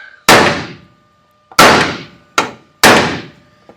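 Four loud, close metallic clangs of a hammer striking freshly welded underbody sheet metal on a 1937 Lincoln Zephyr, each ringing briefly before fading, with the last two strikes close together.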